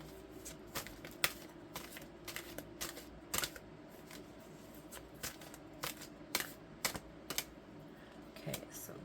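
Cards being shuffled and pulled for a card reading, sharp close clicks and snaps in an irregular run of flicks over a quiet background, with a faint murmur of voice.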